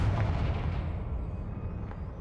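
A Confringo blasting spell in Hogwarts Legacy bursts with a deep, booming explosion that rumbles and fades away over a couple of seconds, with no talking.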